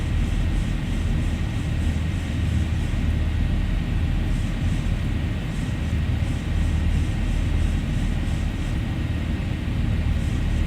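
Steady airliner engine drone in the X-Plane 11 flight simulator, a Zibo-modded jet climbing out of Chicago O'Hare for Boston, continuous and loud with a faint rhythmic ticking on top and no talking.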